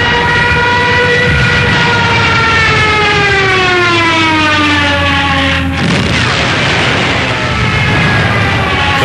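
Junkers Ju 87 Stuka dive bomber Jericho trumpet siren over Poland, a loud continuous wailing tone that slides steadily downward in pitch during the dive, with a roaring engine drone underneath throughout.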